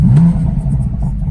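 Ford Focus ST Mk2 fitted with a Milltek exhaust, a short sharp rev that rises and drops away quickly, then a low idle rumble close by.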